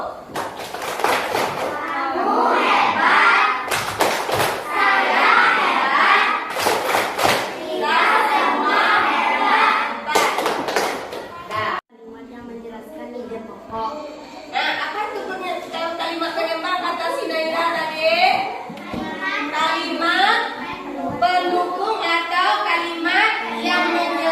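Children in a classroom break into rhythmic group clapping in short bursts, mixed with chatter and laughter, then the class chants and talks together.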